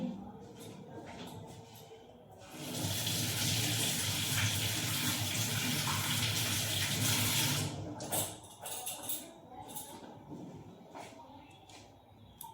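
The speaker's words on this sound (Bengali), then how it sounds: "টিফিন বাটি, ধুয়ে নিই" A tiffin box is rinsed under a running tap, a steady loud rush of water lasting several seconds, with softer splashing and clatter before and after.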